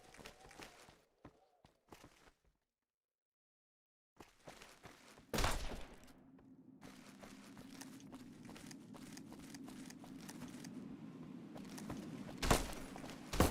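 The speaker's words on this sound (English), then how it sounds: "where am I getting shot at from?" Gunfire in a video game: scattered sharp shots and thuds, then a silent gap, then a low steady hum broken by a couple of loud, abrupt bangs.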